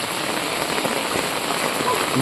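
Heavy rain falling steadily in a village in Tirunelveli, a dense, even hiss of drops with no pauses, close and fairly loud, with no voices.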